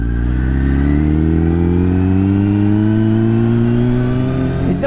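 A 2010 Kawasaki Ninja ZX10R superbike with a carbon Akrapovic exhaust, recorded from a rear-mounted microphone while riding, holds a loud, steady engine drone whose pitch climbs smoothly as it accelerates through a gear.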